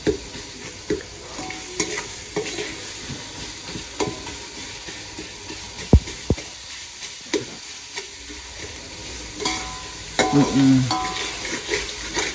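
Soybean biryani rice stir-fried in a pan, with a steady sizzle broken by frequent scraping and clacking spoon strokes, close and fairly loud, and no talking.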